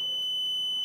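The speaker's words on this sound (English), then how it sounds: "it is making that annoying beeping sound that we all loved so much the first time around" A continuous, steady high-pitched electronic alarm tone sounds loudly and alone while a replacement battery management system (BMS) is being installed.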